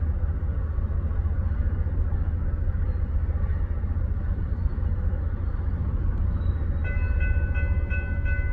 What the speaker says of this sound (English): And we got a westbound grain train.